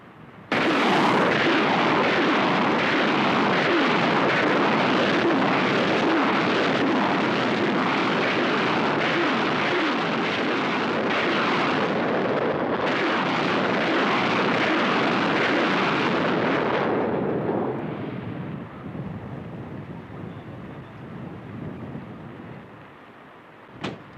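Live rocket fire from an Egyptian army barrage, a dense continuous roar of launches and blasts for about seventeen seconds before fading to a rumbling tail and a final sharp crack.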